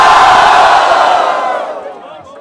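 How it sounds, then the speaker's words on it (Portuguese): Loud crowd roar and cheering at a rap battle, the 179th Batalha da Aldeia Trapstar edition in Barueri, backing the rapper Apollo; dense shouting that fades toward the end. "Barulho para as rimas de Apolo!"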